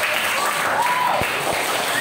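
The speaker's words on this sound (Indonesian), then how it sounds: "kita kasih tepuk tangan semua yang keras" Children in a Catholic religious education class applaud together, a steady wash of many hands clapping at an even level, with a couple of louder knocks near the end.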